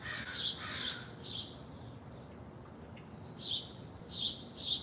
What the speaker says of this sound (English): That was a crow.